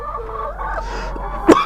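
Hen clucking inside a poultry farm shed, a few soft repeated clucks at close range followed by one sharper, louder call near the end over a low steady background hum.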